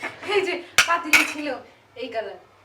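Butterfly pea flower tea with lemon stirred in a cup, a few light spoon clinks against glass heard between stretches of nearby talking.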